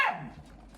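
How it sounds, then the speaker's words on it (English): A dog gives one sharp, close bark that fades quickly into a faint, noisy tail. "That was another dog I have."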